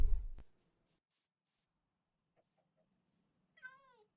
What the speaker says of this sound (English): I just ran in here and I heard the cat meowing.